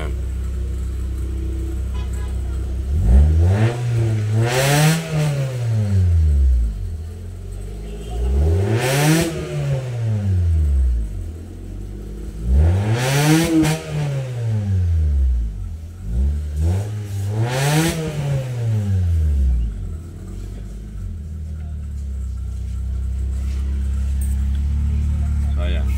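A Honda engine with a misfire issue revs four times in clear, rising and falling sweeps that climb and then settle back to a steady idle between them, close and loud, with talking in the background.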